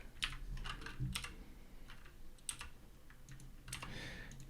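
Steady typing on a computer keyboard, a quiet run of light, irregular key clicks close to the microphone with no talking.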